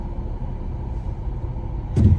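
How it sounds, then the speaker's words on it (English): A car manoeuvring on the road outside, heard as a steady low rumble of engine and traffic noise that swells into a louder burst near the end. "I don't know what this car's doing."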